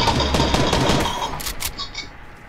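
Rapid bursts of gunfire from a Fortnite match fill the opening second or so, dense and loud, then thin out into a few sharper shots and faint higher game effects as the firing tails off.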